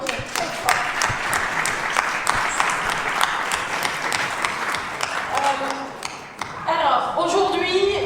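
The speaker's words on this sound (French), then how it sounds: "On peut les applaudir très fort" An audience at a charity evening for SOS Méditerranée France applauds loudly and steadily with dense clapping throughout, and a voice speaks over the ending.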